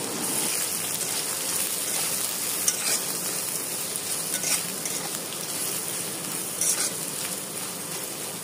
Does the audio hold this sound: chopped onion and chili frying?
yes